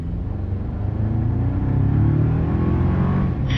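A lifted Toyota Tacoma pickup in sport mode pulls away hard from a brake-boosted launch, its engine rumbling loudly and climbing steadily in pitch as it accelerates, heard from inside the cabin without talk.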